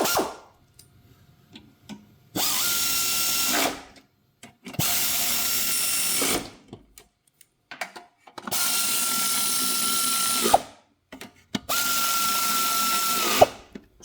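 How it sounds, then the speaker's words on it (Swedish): A power tool runs in four bursts of about one to two seconds each, tightening the bolts on a Briggs & Stratton engine. The bursts are loud and close, with a whirring, ratcheting tone, and short quiet gaps and small clicks fall between them. "Så. Kör vi fast bultarna."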